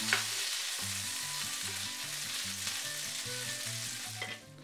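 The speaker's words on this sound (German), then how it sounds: "da hinein geben wir nun die Salsiccia-Bällchen und braten diese bei hoher Temperatur rundherum an" Salsiccia meatballs fry over high heat in oil in a large pan, giving a continuous dense sizzle and crackle with an occasional stirring scrape. The sound is steady and close, with no talking.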